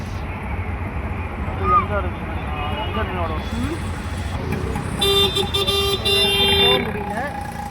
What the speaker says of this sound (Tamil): சரியான டிராஃபிக்காக இருக்குது